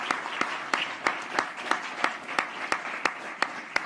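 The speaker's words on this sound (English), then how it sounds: "Please have a round of applause for Tim." An audience at a gala applauds in a sustained wash of clapping, with a steady series of sharper, louder individual claps punctuating it at roughly regular intervals.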